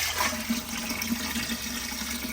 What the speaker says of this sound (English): Let's add water, a little more.